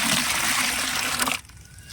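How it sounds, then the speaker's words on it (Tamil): Diluted liquid fertilizer pours in a steady gush into a large bucket, loud and close for over a second before cutting off to a quieter background. "இப்போ இதை வந்து ஒரு பெரிய பக்கெட்டில் ஊற்றிக்கலாம்."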